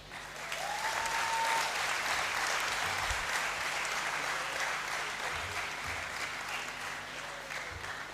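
Broad, steady applause fills the Great Hall at a University of Ghana graduation congregation, a large crowd clapping continuously at an even level for several seconds.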